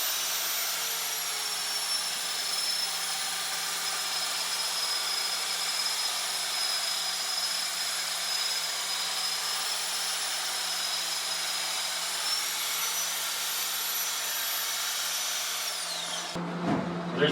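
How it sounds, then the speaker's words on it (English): A loud, steady high-pitched whine of a magnetic drill boring through steel on a planter hitch, continuous for the whole stretch before cutting off abruptly near the end. "I'm going to wiggle the drill around until I get my center right into that divot"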